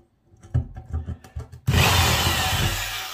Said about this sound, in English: I'm going to center the hole saw drill bit